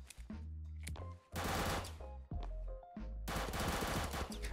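Video game gunfire erupts in rapid automatic bursts during a minigame round, loud, close clusters of shots separated by short gaps.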